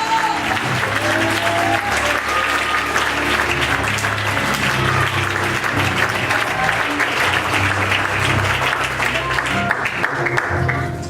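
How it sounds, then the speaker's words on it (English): A church congregation claps hands in praise during a sermon, steady, loud and dense clapping that goes on throughout with voices and cheers mixed in. "Somebody clap your hands unto the right now and praise the name of Jesus."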